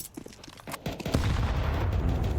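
Counter-Strike 2 gunfire on the Inferno map: a few scattered shots give way to a dense, sustained burst of rapid fire and booms, loud and close.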